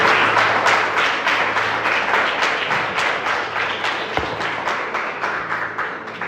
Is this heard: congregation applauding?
yes